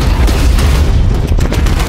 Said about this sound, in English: Every single bomb got a little bit bigger throughout the film.